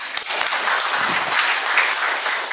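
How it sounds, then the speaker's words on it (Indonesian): A seminar audience bursts into loud, dense applause, steady clapping filling the room for a couple of seconds. "Tepuk tangan."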